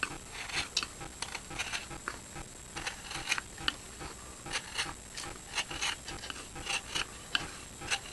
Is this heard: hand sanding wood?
yes